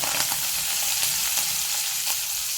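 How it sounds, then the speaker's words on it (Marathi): Spice tempering of asafoetida, curry leaves and coriander frying in a pan over low heat for amti, a loud, dense, continuous sizzle close up with faint crackles throughout. "हिंग घालते लो गॅसवरच आपली फोडणी व्यवस्थित भाजून घेत आहोत कोथिंबीर घालते"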